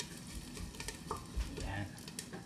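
Garlic fries in a hot pot for pork kare-kare, giving a steady, soft sizzle with occasional stirring scrapes and small pops throughout, with no talking.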